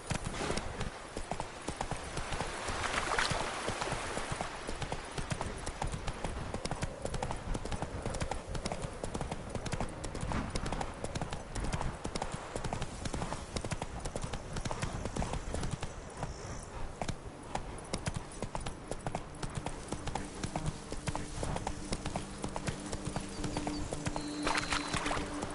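Roach, a horse in a video game, trots along with rapid, regular clip-clopping hooves that run steadily and fairly loud throughout, with a brief whinny-like sound and some faint background game audio.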